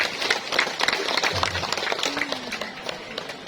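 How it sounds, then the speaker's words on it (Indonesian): Audience applause at a Halal Bihalal religious gathering, a steady patter of many hands clapping across the crowd, moderately loud with some scattered voices mixed in. "Beri tepuk tangan buat Indonesia"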